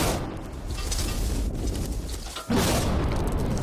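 A TNT blast against a safe, a loud sustained roaring boom that fills the sound, drops off briefly, then surges again in a second heavy burst.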